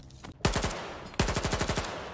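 Automatic gunfire in the shooter game S.T.A.L.K.E.R. 2 Heart of Chornobyl: two loud, close bursts of rapid rhythmic shots, the second burst longer, with no talking over them.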